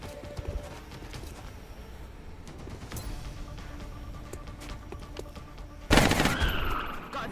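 Gunshots fired in the XCOM strategy video game, a series of sharp cracks spread across a busy game soundscape, ending in a louder burst of fire near the end.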